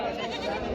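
A goat bleats once at a livestock market, a short loud close call over crowd murmur.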